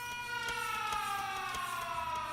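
A steady, sustained alarm tone from a Factorio low-power warning drones continuously in a video game, with faint clicks and game sounds underneath.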